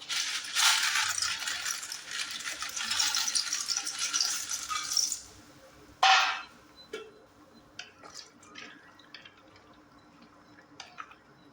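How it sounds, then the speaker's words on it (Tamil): Dry macaroni pours into a pot of Tamil-style chicken pasta with a dense, steady rattle lasting several seconds, followed by one sharper clatter and a few faint scattered clicks, with no talking. "இப்போ நம்ம எடுத்து வச்சிருக்க மக்ரோனி வந்து போட்டுக்கலாம்."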